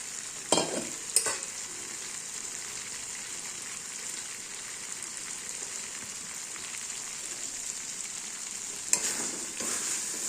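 Potato pieces frying in a pan for an aloo paneer dish, a steady close hiss of oil with a few louder clatters of stirring near the start and end, no voices.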